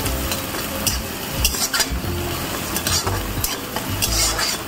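Onion and potato fry in a pan, a loud, continuous sizzle and crackle with repeated stirring scrapes as the pieces are mixed and browned.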